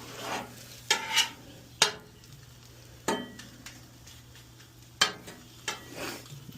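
Breakfast food frying on a Blackstone griddle for a deviled egg sandwich, a steady soft sizzle broken by several sharp spatula scrapes and clinks at irregular intervals, close and fairly quiet with no talking.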